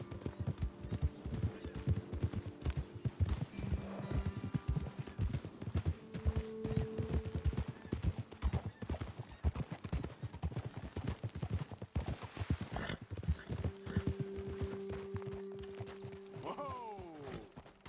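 Horses' hooves clip-clopping steadily on a trail in the Red Dead Redemption 2 video game, a dense continuous rhythm with tonal game sounds, a short neigh near the end and some speech mixed in.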